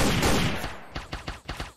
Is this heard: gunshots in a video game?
yes